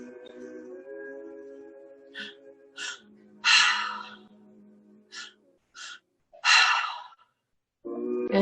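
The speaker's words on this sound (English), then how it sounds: "Inhale, inhale, exhale." Guided breathwork session with deliberate inhales and exhales, heard as several breathy bursts of air alternating with gaps and quiet stretches, plus a low steady tone underneath.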